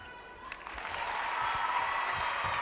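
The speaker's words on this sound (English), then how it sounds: "It's almost got the polite applause status in the crowd, hasn't it?" Polite applause rises from the crowd at a netball match, a soft, distant patter that swells gradually and stays steady, heard beneath arena ambience.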